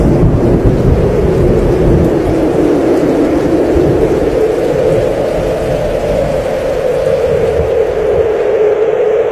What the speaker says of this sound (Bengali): চারিদিকে ঘন মেঘ ছেয়ে গেছে, ঝড় উঠেছে